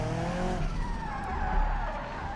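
A car in BeamNG.drive drifts with sustained tire squeal and skidding over a steady engine drone, loud and close for the whole stretch.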